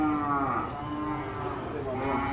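A carabao water buffalo at a livestock sale gives one long, drawn-out low moo, fairly close and steady for over two seconds.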